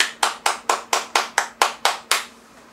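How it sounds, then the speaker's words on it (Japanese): Sharp hand claps ring out close and loud, nine evenly spaced claps in a brisk steady rhythm, and then silence. "拍手してくんない"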